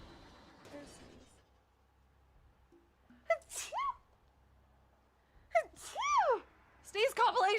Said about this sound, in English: There's sneeze.